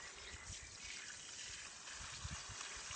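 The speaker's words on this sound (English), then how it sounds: "Cover it with water to steep." Water poured into a plastic container over a comfrey tea bag to steep it for organic liquid fertiliser, a steady broadband trickling and splashing that runs continuously for about three seconds at fairly low level.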